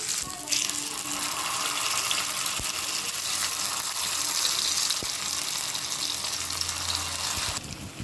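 Masala-coated elephant yam pieces frying in oil on a dosa tawa make a steady, rushing hiss of sizzling that stays loud and close for about seven seconds before dropping away.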